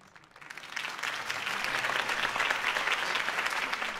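Video game crowd applause swells quickly from quiet to a sustained burst of many hands clapping, loud and dense for several seconds.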